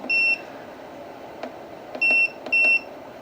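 Electronic beeps from a CyberTake S2 Pro portable air conditioner as its timer button is pressed: one short tone, then two more in quick succession, loud and clear over a soft fan hum.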